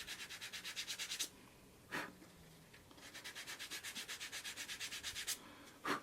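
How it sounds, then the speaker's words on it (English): Sandpaper rubs a leather wallet in quick rhythmic back-and-forth bursts, two runs of about a dozen strokes each separated by a few single scrapes, close and quiet without talk. "I'm going to go in, sand that down."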